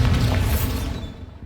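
A Bombarda explosion spell goes off in Hogwarts Legacy: one loud, close blast with a low rumbling boom and crackling debris that fades away over about a second.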